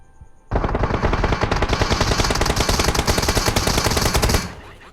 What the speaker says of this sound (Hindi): अपनी BRDM फोड़ने का ट्राई करता है M4 से